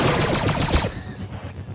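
Sustained rapid blaster-style gunfire aimed at an HMP gunship in a Squad Star Wars mod, loud and continuous for about a second before trailing off into a rumbling tail.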